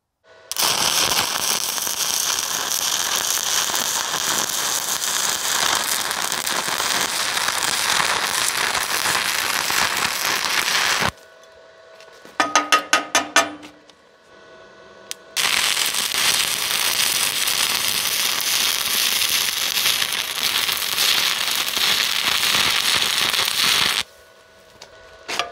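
A Simder ARC-200S welder stick welds with 7018 electrodes, giving a loud, steady crackling sizzle of the arc in two long runs separated by a short quiet pause with a few clicks and taps.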